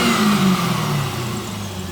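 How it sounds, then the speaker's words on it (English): A 2002 C5 Corvette with an LS1 V8, automatic transmission and aftermarket exhaust revs up close by, the engine climbing briefly and then settling into a steady, loud drone. "Go ahead and rev it up here."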